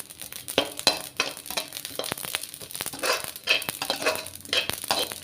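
Poppy seeds roast in a dry pan, giving a light, continuous crackle broken by sharp spatula scrapes and rustling stirs, close by and without speech.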